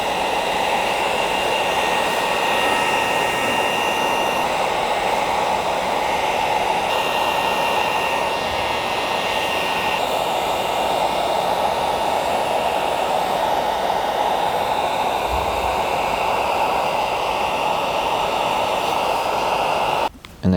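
Heat gun blowing hot air over tint film on a Honda Pilot taillight lens, a steady loud whooshing drone that runs for about twenty seconds before shutting off.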